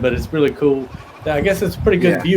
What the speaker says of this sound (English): You can actually hear the sheep behind me too there.